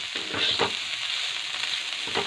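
Sliced vegetables with garlic frying in a pan hiss in a steady, loud sizzle, with soft scraping strokes from stirring rising above it every so often.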